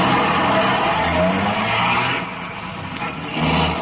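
Police cars pull out of a garage with tires squealing, a continuous roar of engines and rubber that dips briefly midway and swells again at the end.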